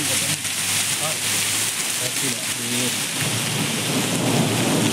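Heavy rain pours steadily in Ooty town with rolling thunder beneath it, a loud dense wash of rainfall on surfaces that stays constant throughout, a low rumble underneath and faint voices in the background.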